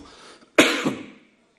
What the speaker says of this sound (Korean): 자꾸 이렇게 기침이 나서